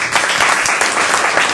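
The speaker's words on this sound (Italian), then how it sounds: "innanzitutto un applauso ad Angelo Cavallari." A burst of dense audience applause at a book presentation, many hands clapping together loudly and continuously for a moment.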